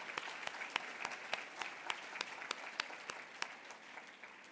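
Scattered applause from a small audience at an annual awards gala, sharp separate claps at a steady pace, fairly faint and distant.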